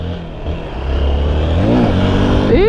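A motorcycle engine revs hard as the rider tries to pop a wheelie, rising from a low idle to a loud, climbing roar with repeated throttle swells, close to the microphone.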